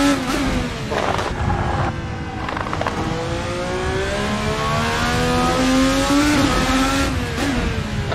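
An IndyCar race car tuned to 1000 horsepower screams through corners, its engine revving high, dropping on braking and climbing again, loud and continuous from onboard.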